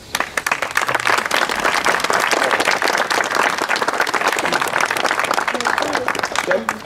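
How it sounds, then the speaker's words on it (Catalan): A small group claps during an outdoor village heritage walk, a sustained, fairly close burst of applause lasting several seconds, with voices mixed in. "vull dir que agrairia un aplaudiment"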